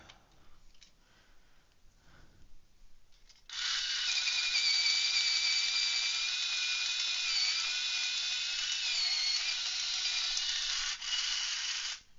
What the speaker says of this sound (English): I think my sharpener's over full, so it's being mean.